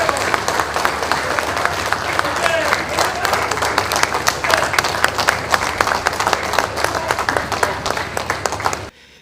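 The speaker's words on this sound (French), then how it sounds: "Lors de son entrée, le garant de la nation a eu droit à une standing ovation." Assembled deputies give a standing ovation to the head of state as he enters: a large hall of steady, dense applause, loud and continuous for several seconds before cutting off abruptly, with some voices mixed in.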